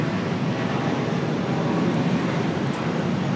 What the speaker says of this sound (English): speaking of A319s, here goes one